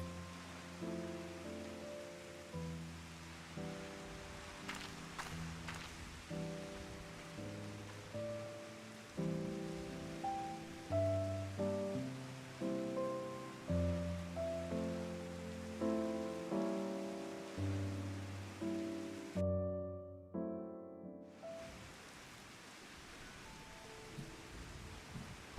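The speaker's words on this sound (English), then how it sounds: "rain." Steady soft rain ambience in Final Fantasy XIV, a constant hiss running beneath a louder melodic game music track that plays throughout.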